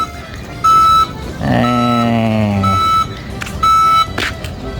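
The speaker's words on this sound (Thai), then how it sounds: "ถอยหลังจะมีเสียง" An 800-watt four-wheel electric vehicle sounds two short, steady reversing beeps separated by a gap. Between them comes a longer, lower tonal warning or chime with harmonics, and soft background noise fills the rest.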